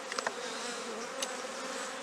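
Honeybees swarming over a brood frame in an open hive, a dense, steady buzzing hum from many insects at close range, with a few faint taps near the start.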